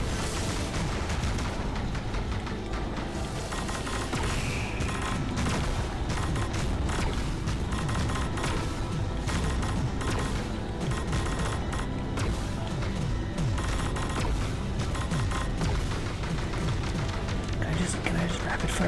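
Rapid gunfire in the Panzer Dragoon Remake video game, dense continuous shots and booms layered over a loud game soundtrack throughout.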